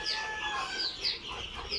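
Young chickens about twelve to thirteen days old, kept with quail chicks, give a few soft clucks and high peeps close by, a quiet rising chatter with no talk.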